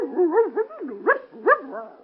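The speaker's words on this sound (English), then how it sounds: "He's sure a fine dog, Lon." Dog in an old-time radio drama, letting out a quick run of yips and whining barks, close and fairly loud, with two sharper yelps toward the end and no talk over them.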